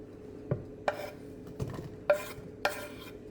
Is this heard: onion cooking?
yes